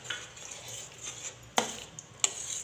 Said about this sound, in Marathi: आणि याला हलवून घ्यायचे छानपैकी।